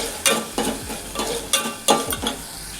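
Tomato masala with turmeric, salt and chili powder stirred in a hot pan, five or six brisk, evenly spaced spatula scrapes over a continuous sizzle, loud and close, with no speech.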